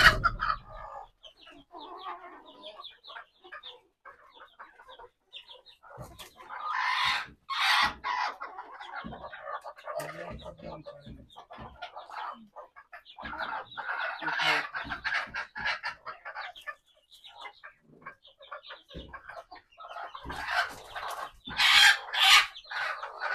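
Chickens clucking and calling at morning feeding as broken rice is scattered for large and small birds. Overlapping clucks and squawks come in busy bursts, fairly close, with no talk.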